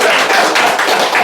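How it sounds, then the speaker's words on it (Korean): An audience at a Korean lecture on independence-movement history claps together in a short, loud burst of hand claps, close and unbroken for about a second. "박수 한번 쳐주십시오"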